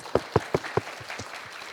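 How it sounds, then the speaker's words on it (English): A brief scatter of applause at a junior student music concert: four sharp, close hand claps, followed by a few fainter ones fading out within two seconds. "Let's give it a round of applause."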